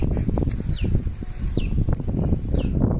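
A flock of pigeons over a rice field flaps its wings in steady close-up fluttering, with brief high chirps recurring about once a second over low rural background rumble.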